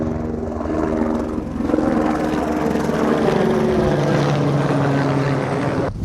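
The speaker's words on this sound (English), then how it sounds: "Another rescue helicopter." Rescue helicopter flying in the Everest region, a steady rotor drone holding loud and close for the whole stretch with no talk over it.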